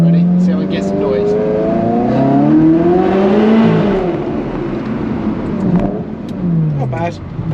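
A Ferrari 360 Challenge Stradale Spider's engine and exhaust echo through a tunnel. One rev climbs loudly to a peak and then falls away to a lower drone, with someone talking over the engine.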